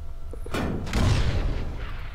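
A firework strawberry explodes in the video game People Playground, making a muffled boom followed by a brief rumbling burst of crackling thuds at moderate volume.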